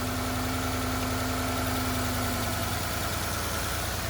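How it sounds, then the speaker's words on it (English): A car engine idles steadily with a constant low hum and vibration, close and unchanging, with no talk over it. "Shut my engine off."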